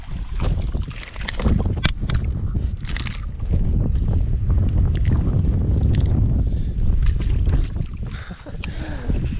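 Strong wind buffeting a microphone aboard a fishing boat on a delta, a loud continuous roaring rumble with gusty surges and some knocks and water noise, no talking.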